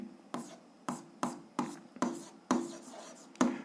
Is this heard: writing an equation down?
yes